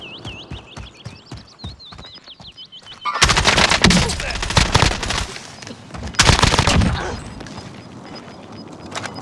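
Call of Duty Warzone gunfire erupts in loud, rapid automatic bursts after a stretch of quieter sounds, with a brief pause between two long volleys and a voice heard early on.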